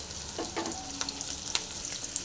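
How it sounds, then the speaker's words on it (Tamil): Onion and garlic frying in a pan for onion chutney, a steady close sizzle with a few light stirring clicks and scrapes, no talk. "வெங்காயம் நல்லா ஃப்ரை ஆகிருக்கு பூண்டு போட்டுடலாம்"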